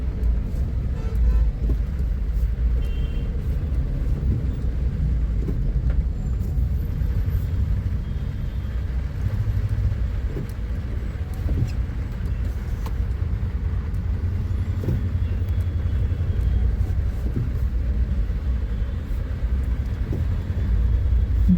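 Road traffic crawls through rain on a commute from Wazirpur to Rohini, a steady low rumble of car, truck and bus engines that is continuous and close.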